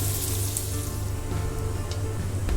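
Egg fried rice frying in a pan for a desi Chinese Indian dish, a steady close sizzle with a constant hiss and faint crackle throughout, no voices.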